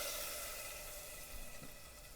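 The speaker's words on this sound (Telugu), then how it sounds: "పోపుని పులుసులో వేసుకుంటున్నాను." Hot tempering with fenugreek powder and curry leaves sizzles as it is poured into amaranth-leaf tamarind stew, a faint steady hiss alone without voices.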